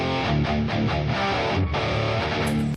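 Two distorted electric guitars layered together, one through a Mesa amp and one through a 5150, play a loud, continuous heavy riff with low chugging notes that runs unbroken for nearly three seconds before stopping abruptly.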